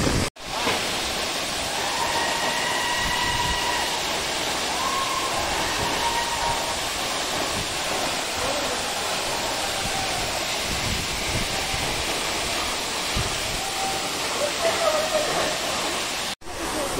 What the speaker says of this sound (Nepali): ल यो चाहिँ मोहिनी झरना ल।